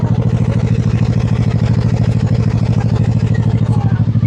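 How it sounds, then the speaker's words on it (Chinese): Stock exhaust of a 2024 KOVE 250RR twin-cylinder 250cc motorcycle at idle, recorded close at the rear, a loud, steady, rapid throbbing pulse with no throttle change. "这后面排气的声音"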